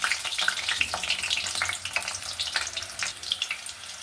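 Boiled potatoes fry in oil in a wok, a dense crackling sizzle with sharp pops and spatters, close and fairly loud, with occasional stirring scrapes and no talk.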